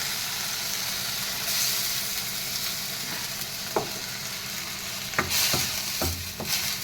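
Food sizzling and frying in a pan, with steady hiss and a few sharp stirring scrapes near the end, close up with no talking.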